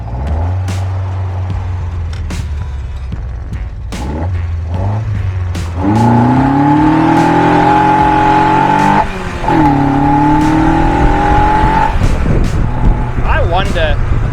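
A Lotus 7 replica sports car drives off on a road trip. The engine idles, then revs and pulls through the gears, loud and close, with rising and falling engine tones and a few sharp clunks.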